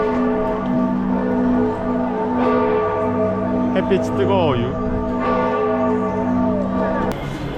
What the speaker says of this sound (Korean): 성당이 진짜 다 하나 다르게 생겼어 아우 종소리 크다